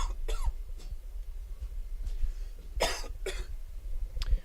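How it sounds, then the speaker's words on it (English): Several harsh coughs burst out at intervals, two loud ones close together near the end, over a low steady hum during a high school football game broadcast. "We almost made it the entire game without coughing"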